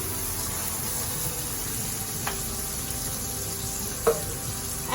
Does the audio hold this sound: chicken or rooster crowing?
no